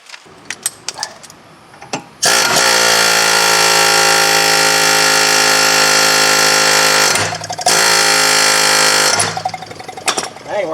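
A loud impact gun hammers on the front wheel hub axle of a 2010 Nissan Altima in two long sustained bursts with a short break between them, preceded and followed by clanks of tools.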